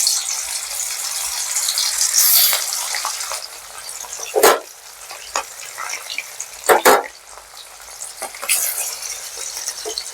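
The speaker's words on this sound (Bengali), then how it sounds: "তেলটা আমার গরম হয়ে গেছে ভালোভাবে। আমি এবার মাছগুলো এক এক করে দিয়ে দেবো।" Hilsa fish pieces are added one at a time to hot oil for shorshe ilish, setting off close bursts of sizzling and spattering. Several loud crackling flare-ups stand out over a steady background fry.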